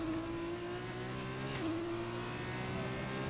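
Formula 1 race car in a Singapore street-circuit racing game, its engine holding a steady high-pitched whine for over three seconds with a brief shift blip midway, loud and continuous with no talking.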